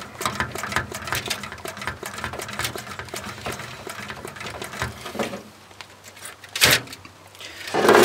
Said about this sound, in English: I've got about 20 pumps. Just to build the pressure up